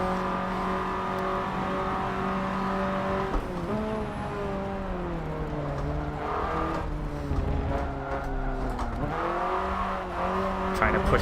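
A race car engine in a racing video game revs hard and shifts through the gears, its whine rising and falling with tire squeal. Loud and continuous, with a voice talking over it.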